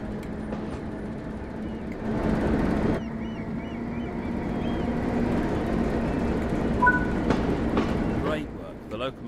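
A train locomotive on the West Somerset Railway in Train Sim World 3 pulls away. A low steady engine rumble builds with faint rail clatter, some tonal squeals and scattered clicks toward the end.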